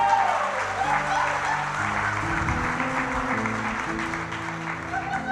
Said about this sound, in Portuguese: Dá uma salva de palmas a Jesus.